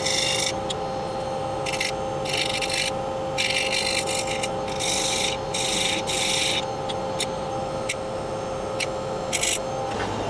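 Rubbing and scraping on the top of a freshly turned wooden bowl on a lathe, a steady low whirring hum with repeated short bursts of rasping scrape, fairly close and without talk.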